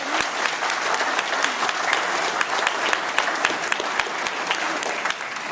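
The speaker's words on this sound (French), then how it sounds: "je crois qu'on peut l'applaudir parce qu'il a un petit peu peur" An audience at a New Year's greetings ceremony in Saint-Valery-en-Caux applauds a young man named Samuel, dense, even clapping from a sizable crowd that stays loud and steady throughout.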